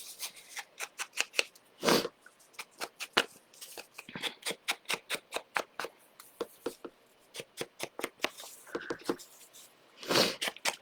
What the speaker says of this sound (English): I'm going to trim this down to 6 inches